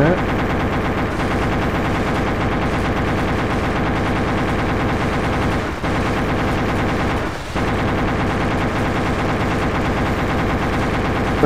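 Apache helicopter gunfire in a video game rattles continuously in rapid, loud bursts with barely any pause, dense and sustained across the whole stretch.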